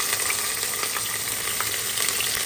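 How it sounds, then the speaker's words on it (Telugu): Onions and cashew nuts fry in hot oil for a chicken biryani, producing a loud, dense, even sizzle with light crackling throughout and no voices. "ఇంకా ప్లస్ కాజు వేస్తున్నానండి, జీడిపప్పు. అది కొంచెం ఫ్రై అయిన తర్వాత మళ్ళీ నెక్స్ట్ ఆనియన్స్ వేస్తున్నానండి"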